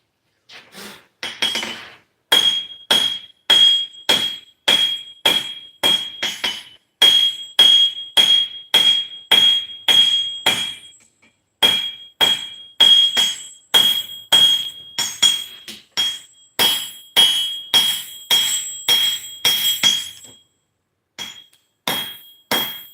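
A hammer rings on hot metal over an anvil while forging, bright clanging strikes in quick rhythmic bursts separated by short pauses, loud and close, with no talk.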